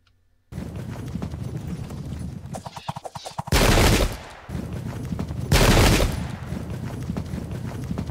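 Musket volleys and hooves in the Pike and Shot Campaigns war game: rattling clip-clop and scattered shots give way to two loud, dense bursts of massed gunfire a couple of seconds apart.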